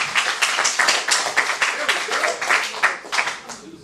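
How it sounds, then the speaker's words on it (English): Comedy club audience on a Tuesday night in Times Square clapping for comedians, a smaller crowd's uneven, distinct handclaps in a quick pulsing rhythm, fairly close, with occasional voices mixed in. "give them a nice round of applause."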